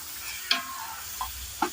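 Pasta stirred into an onion-tomato gravy in a pan, with three short spoon clinks and scrapes over a faint, steady sizzle.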